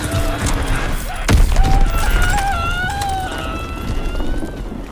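Enemy bomb explosion in Call of Duty WWII: one sharp, heavy blast lands early, then a deep rumble follows under crackling battle noise and steady whistling, wavering tones.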